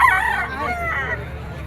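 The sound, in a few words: bull stag gold rooster crowing at market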